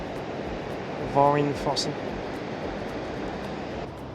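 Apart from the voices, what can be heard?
waterfall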